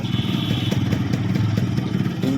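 A used car's engine idles steadily nearby with an even, slightly clattery mechanical hum throughout, no voices over it.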